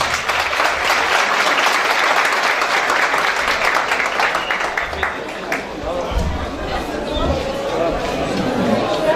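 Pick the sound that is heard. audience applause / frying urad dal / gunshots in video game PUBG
audience applause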